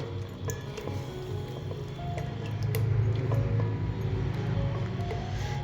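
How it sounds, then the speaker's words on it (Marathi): Thick batter squelches wetly as it is stirred steadily with a wooden ladle, with occasional light clicks of the ladle against the bowl. "असं थोडं सोडत हलवून घ्यायचे आहे, म्हणजे याच्यामध्ये गुठळ्या होणार नाहीत।"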